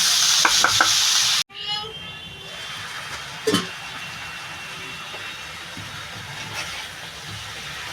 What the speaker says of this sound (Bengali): এবার এটা একটু ঢেকে ঢেকে দিয়ে কষাবো